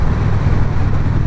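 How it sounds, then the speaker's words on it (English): Strong wind gusts buffet the microphone on a moving motorcycle, a loud, steady, low roaring rush with no break. "these wind gusts"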